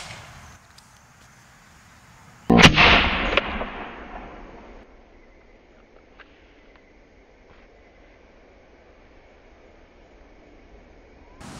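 A homemade tennis ball cannon fires outdoors with one sharp, loud blast that fades into a lingering echo over quiet open ground.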